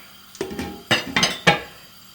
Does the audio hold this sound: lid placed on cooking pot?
yes